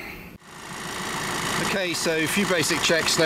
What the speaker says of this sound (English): Sorry about the noise, the engine's running, we need to charge the battery.